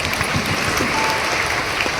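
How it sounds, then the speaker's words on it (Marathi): Dense, steady applause from an audience at a temple event, cheering the dance choreographers of the program. The clapping is continuous and fairly loud for the full two seconds, with no clear voices on top. "त्यांच्यासाठी जोरदार टाळ्या"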